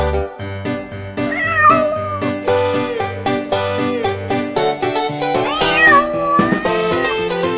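Cartoon cat meows in a children's nursery rhyme, repeated tonal mewing over a bouncy musical backing with a steady beat.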